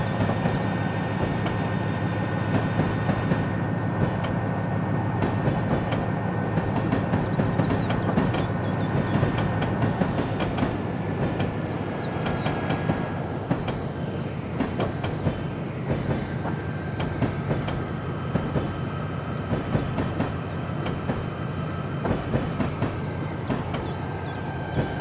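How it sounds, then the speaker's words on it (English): A B&O coal freight train, a loaded coal drag on the Mountain Subdivision, rolls past close by. It makes a steady rumble with continuous clickety-clack of wheels on rail joints and no voices. "Watching rear of the train."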